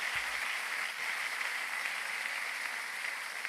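A church congregation applauds the Lord during a service, with steady, dense clapping that holds at an even level throughout, close and full, with no talk over it.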